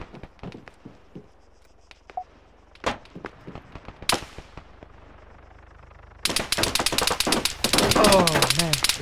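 Automatic gunfire from an armed marid enemy in a shooter video game, dense rapid bursts erupting loudly in the last few seconds after scattered single shots and taps, with a voice talking over it.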